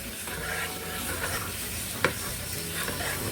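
Bacon fries over medium heat in a pan while being stirred, a constant crackling sizzle under repeated spatula scrapes and one sharp clack, close and moderately loud, with no voices.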